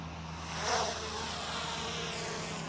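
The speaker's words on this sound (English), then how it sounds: "So let's get the drone up in the air." A DJI Lito X1 drone lifts off and flies nearby outdoors, its steady high buzzing whir swelling briefly as it climbs, then holding at a constant level with no talk.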